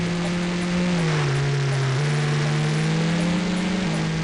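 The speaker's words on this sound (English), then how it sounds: "Listen to the engine." A car engine in the racing game Screamer 2 drones steadily with a sustained revving tone, pitch shifting in small steps as gears change, loud and continuous with no talk.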